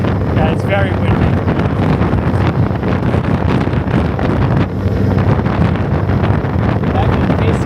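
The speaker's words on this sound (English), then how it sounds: "it's very windy." Strong wind buffets a microphone continuously during an outdoor walk through New York City, a loud rumbling roar that masks the surroundings, with someone talking over it.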